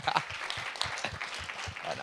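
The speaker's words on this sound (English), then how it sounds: "let's give another round of applause for her" A crowd at a student government senate meeting claps in a steady patter, with a voice speaking over the applause.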